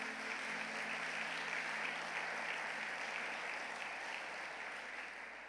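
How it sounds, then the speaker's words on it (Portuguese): A church congregation applauds during a sermon, with sustained, even clapping throughout that slowly tapers toward the end. "Pode aplaudir ao Senhor?"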